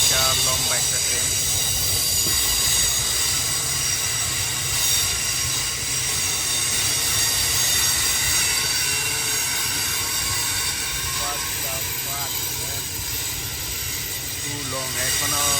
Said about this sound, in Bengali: দেখছেন বিশাল লম্বা একটা ট্রেন